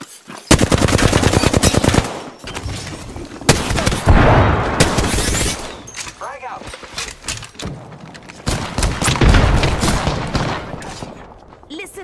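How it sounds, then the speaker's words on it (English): Rapid automatic gunfire from the R99 in Apex Legends on PS4, played in dense loud bursts with short gaps across the whole stretch. In-game character voices speak between and over the shots. "Listen up, I'm getting shot at."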